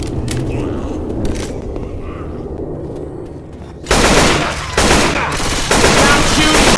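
Left 4 Dead 2 gunfire on The Parish: after a few seconds of quieter game ambience, loud rapid automatic bursts begin abruptly and continue in close sustained volleys, with brief in-game voices.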